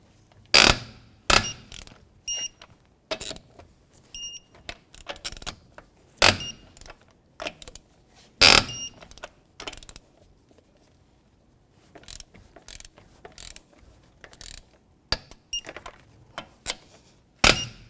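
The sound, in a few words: torque wrench tightening Jeep Liberty wheel lug nuts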